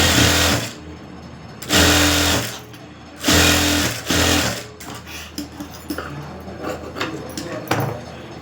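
A sewing machine stitches the back neck of a garment in two long, loud motor bursts, then stops; faint handling of the fabric and short scattered clicks follow.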